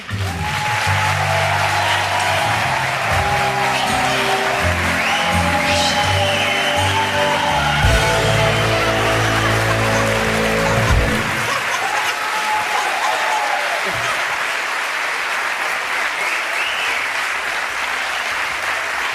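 A television studio audience applauds for Manuel on a Galician afternoon show, steady dense clapping running throughout while bright music with a sustained melody plays over it before dropping away, leaving the clapping alone.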